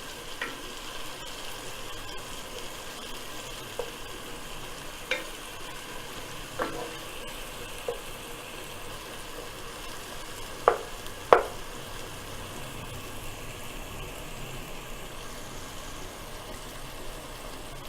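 Spicy pasta cooking over high heat in a pan sizzles and fries steadily throughout, with occasional soft knocks and scrapes of stirring standing out above the continuous hiss, and no talk.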